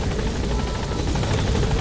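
A helicopter in the video game Metal Gear Solid V thuds with rapid, rhythmic rotor beats over a loud, continuous engine whine, close and unbroken for the whole moment.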